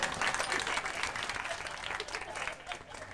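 Applause from an audience at a Marathi kirtan, a short burst of dense clapping that fades a little toward the end.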